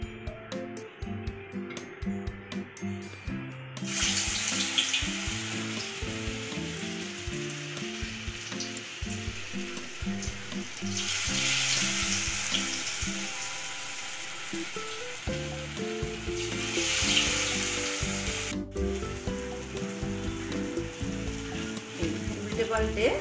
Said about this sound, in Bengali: কোফতাগুলো ভাজার জন্য কড়াতে সরষের তেল দিয়ে দিচ্ছি